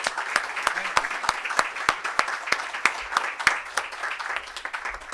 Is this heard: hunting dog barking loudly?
no